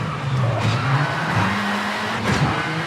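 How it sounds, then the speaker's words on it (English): A rally car in V-Rally 4 brakes hard at the end of a short straight, with tires squealing and skidding loudly over a steady engine drone for nearly three seconds. "Got a little bit of a straight and hard on the brakes."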